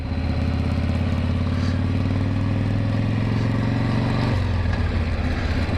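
A motorcycle passes close by, its engine a loud, continuous droning rumble that shifts lower in pitch near the end as it moves away.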